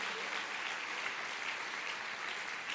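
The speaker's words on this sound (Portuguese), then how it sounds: "Você pode dar uma salva de palmas para Jesus?" Faint congregation applause at a family conference church service, a steady wash of distant clapping throughout with no clear voices.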